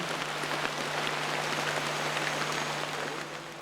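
Steady, dense rain falls in the Amazon rainforest, an even close hiss of drops on surfaces with a constant low hum beneath, no voices.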